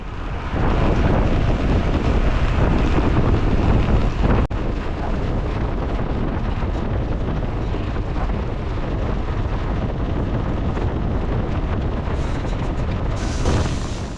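Heavy wind roars across the microphone of a rider in a Cat 4/5 road bike race; a loud, continuous buffeting rush holds steady for the whole stretch, with no voices.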